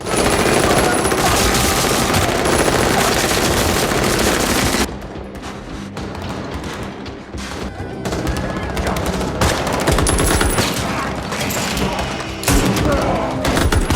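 Dense automatic and single gunfire crackles through an action film shootout as henchmen riddle a sniper with bullets, rapid loud bursts layered over a music score, briefly thinning mid-scene before heavy volleys resume.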